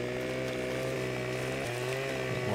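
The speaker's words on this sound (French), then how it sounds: "J'ai toujours, hop, ma tronçonneuse bien évidemment," Chainsaw pruning a tree in the video game Farming Simulator 15, its engine droning steadily and loudly with a sustained buzzing tone that shifts pitch slightly as it cuts, alone without talk.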